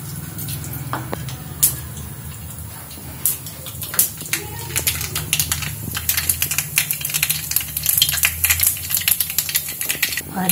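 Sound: mustard seeds frying in a pan

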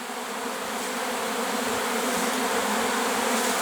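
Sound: honeybee swarm settling on empty hive boxes

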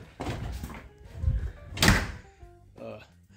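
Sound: door closing

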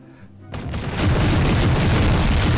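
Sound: explosions from bombing in a video game

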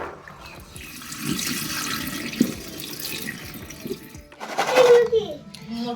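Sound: water washing soaked peas before boiling

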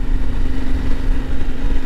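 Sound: Yamaha Ténéré 700 World Raid motorcycle engine idling

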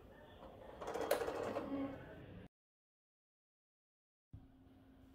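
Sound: crank turning on 1897 Payen P3A arithmometer calculator

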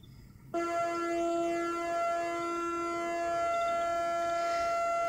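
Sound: pulse width modulation whine from solar charge controller

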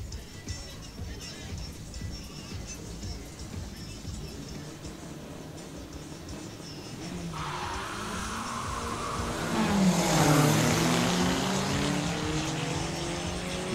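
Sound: drag racing cars launching down the strip

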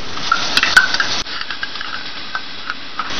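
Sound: stirring whisked sour yogurt into onion and garlic in a pot

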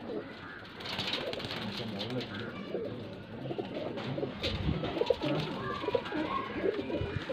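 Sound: pigeons cooing

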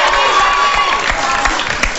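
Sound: applause for Lan

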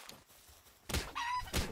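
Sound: chickens clucking in the video game Palworld

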